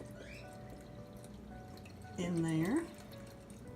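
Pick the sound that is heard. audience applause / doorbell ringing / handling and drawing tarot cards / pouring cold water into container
pouring cold water into container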